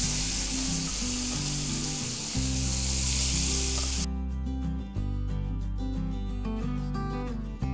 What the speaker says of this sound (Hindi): ऑनियन हमारा फ्राई हो गया